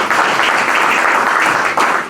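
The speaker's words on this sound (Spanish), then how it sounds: "Regálele un aplauso" Brief applause from a church congregation during a Spanish-language service, a loud, steady rush of clapping hands filling the room for a couple of seconds without letting up.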